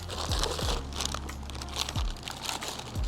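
Close, busy crinkling and crunching of plastic wrapping while a GT3076 turbocharger is unboxed, with irregular rustles and handling noises throughout.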